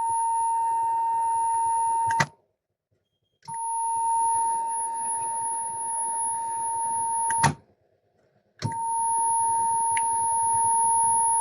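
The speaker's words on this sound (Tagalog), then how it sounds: "Sound the alarm." Ship fire alarm aboard the vehicle carrier Trans Future 3 during a fire drill: long, steady electronic blasts, three of them heard, separated by short silent gaps.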